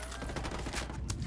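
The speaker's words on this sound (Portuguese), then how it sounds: "foi a torreta que me matou" Rapid turret gunfire in the video game Ghost Recon Wildlands, a dense continuous burst of shots lasting about a second, loud and close.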